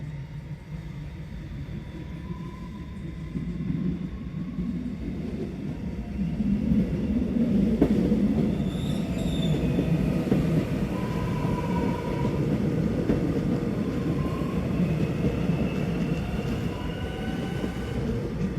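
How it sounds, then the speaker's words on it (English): Three-carriage X'Trapolis electric trains sit idle at a Belgrave Line station platform, giving off a continuous low mechanical hum and rumble with faint steady tones that swell slightly midway. "quite often there are 2 3-carriage extrapolis trains just sitting idle on platform number"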